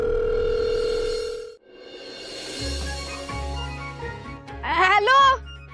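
A telephone dial tone sounds as a call fails to connect, a steady hum for about a second and a half that then breaks off. Background music follows, ending in a rising melodic flourish.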